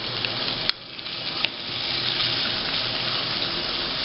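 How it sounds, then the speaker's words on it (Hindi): Cubed chicken and garlic sautéing in a pan, a steady close sizzle with a watery hiss throughout and a couple of sharp clinks early on, no voices. "थोड़ा सा लहसुन बस सौते हुआ और इसमें चिकन जो कि हमने क्यूब्स काटे थे, ये हमने इसमें ऐड किया"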